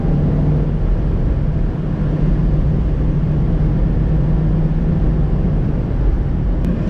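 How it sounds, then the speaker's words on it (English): A 20-year-old Ford Street Ka with a small four-cylinder engine runs steadily, a close, continuous low hum with a faint whine that holds level throughout, with no voices. "It sounds alright to be a small 4-pot after all."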